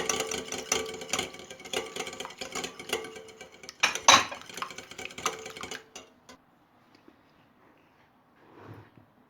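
Eggs being whisked in a deep bowl, a rapid busy clatter of utensil against bowl for about six seconds, then near quiet.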